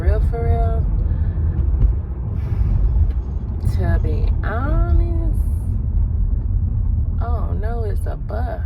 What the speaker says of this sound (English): oh no, it's a bus. I didn't know it was a bus.